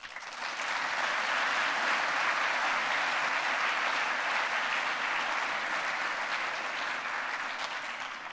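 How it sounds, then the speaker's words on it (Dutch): University audience at the opening of the academic year applauds a speaker, a broad, even roar of many hands clapping that swells in quickly and holds steady for about eight seconds before easing slightly, with no voices over it. "geeft u hem alvast een applaus."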